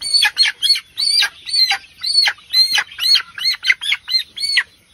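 A local chicken being handled for a fowl pox vaccine injection gives a rapid series of loud, close squawks and cries, with a burst of wing flapping running underneath throughout.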